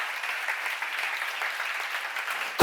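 An audience at a Korean church seminar applauds with steady, continuous clapping, even and moderately loud throughout, with no voices over it.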